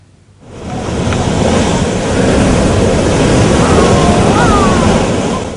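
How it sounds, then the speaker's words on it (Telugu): Stormy surf pounds the Uppada shore on the Bay of Bengal during Cyclone Amphan, a loud, continuous roar of crashing waves and wind rising in after a quiet opening. "సాగర తీరంలో ఉవ్వెత్తున కెరటాలు ఎగసిపడుతున్నాయి"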